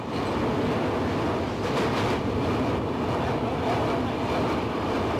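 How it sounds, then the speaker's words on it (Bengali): The 20505 Dibrugarh–New Delhi Rajdhani Express crosses the Brahmaputra rail bridge in a loud, continuous rumble with a steady rattle of wheels and carriages, heard up close from on board. "ব্রিজের ওপর দ্রুতগামী ট্রেন"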